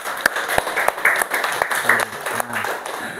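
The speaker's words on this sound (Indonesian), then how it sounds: "Jadi tepuk tangan sekali lagi untuk kita semua." Classroom applause from students after presentations, a short burst of clapping with scattered claps and a teacher's voice talking over it.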